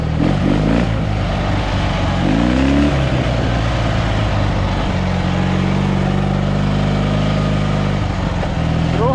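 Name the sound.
Dnepr MT-11 motorcycle engine accelerating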